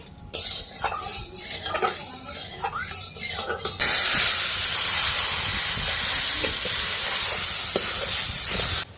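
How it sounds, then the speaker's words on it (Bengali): Rice fries in a little refined white oil in a hot wok: some clatter comes first, then a loud, steady hissing sizzle takes over and runs to the end. "চাল কিন্তু বন্ধুরা হালকা হালকা ভাজা হয়ে গেছে"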